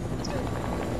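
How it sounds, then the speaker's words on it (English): A helicopter in Fortnite drones steadily and loudly throughout, its rotor wash filling the short moment, while players talk over it. "We'll go to helicopter."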